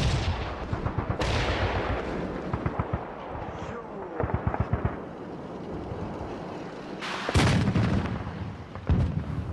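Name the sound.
artillery fire during the Bosnian war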